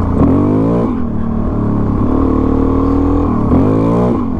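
A dual sport motorcycle revs hard in a field as its rear wheel spins out, engine pitch climbing and falling in repeated surges, loud and close, with no talking.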